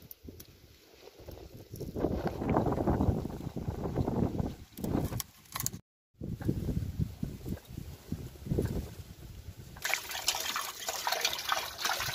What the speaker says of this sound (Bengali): মাছ কাটা হয়ে গেছে, আমি এখন ভালো করে ধুয়ে নিচ্ছি পরিষ্কার করে।